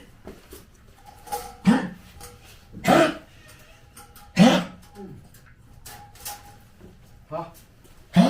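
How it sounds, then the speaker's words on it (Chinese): A sick rescue dog coughs in a series of short, sharp, hoarse bursts spaced a second or two apart, close to the microphone, with quiet background sounds between them. "你咳嗽了啊，喝点就好了"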